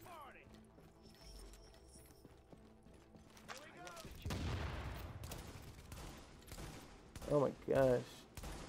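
Gunfire from the video game The Division (2016, Xbox One S) crackles in scattered bursts and sharp single shots, with quieter mechanical sounds between and a voice briefly exclaiming over them.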